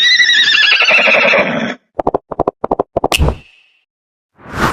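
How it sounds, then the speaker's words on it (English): A horse neighs loudly in a long whinny, followed by a series of short snorting bursts and a final breathy exhale, heard alone and close. "I am horse."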